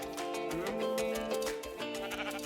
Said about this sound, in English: Sheep is on his pedestal.